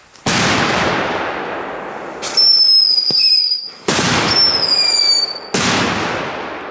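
Three loud consumer firework bangs, nitrate-based, each followed by a long crackling decay and whistling streaks, spaced a couple of seconds apart, close by with no talk.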